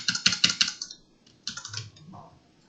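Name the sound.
computer keyboard keys being pressed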